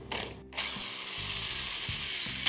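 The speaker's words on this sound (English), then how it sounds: "Now drill a hole" A power drill bores a hole in a piece of timber, the motor whirring steadily in short bursts with pitch changes, close and loud, and a brief pause near the start.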